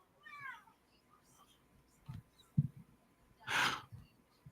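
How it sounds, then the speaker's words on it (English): A pet cat gives a clear rising meow near the start, followed by soft shuffling, a few thumps and a breathy sigh-like burst; indoors, fairly quiet and close. "Love my cat."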